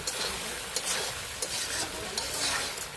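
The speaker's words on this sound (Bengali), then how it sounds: "মাংসটা তোমরা তো একবার দেখছো, 2-3বার করে ঢাকন লাগে, 2-3বার করে লাড়াচাড়া করার লাগে" Duck meat for a homemade duck curry sizzles steadily in a pan, with scraping stirring strokes recurring every half second or so, close and fairly quiet, with no one talking.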